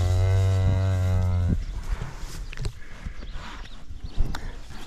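A cow near a barn lets out one loud, long, close moo lasting about a second and a half, followed by shuffling, hoof and movement noises.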